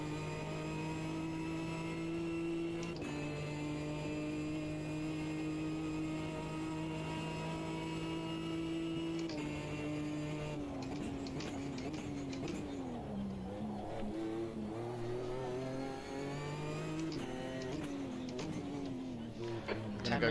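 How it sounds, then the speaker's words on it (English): A Ginetta G55 GT4 race car engine drones at high revs on the Long Beach street circuit, pitch sliding up and down through gear changes as it laps, steady and fairly distant. "Just enjoy the sounds of Steve in the car for a little bit."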